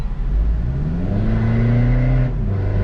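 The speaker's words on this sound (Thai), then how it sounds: "ปิดวาล์วนี่เงียบกริบส่วนเปิดวาล์วก็เสียงดังแบบเราเล้าใจเลยนะฮะ" A Mitsubishi Pajero Sport with an automatic gearbox and an ATz1 stainless 304 sport exhaust revs with its exhaust valve open. The engine climbs steadily in a loud, close drone for a few seconds, then eases off near the end, with no talking.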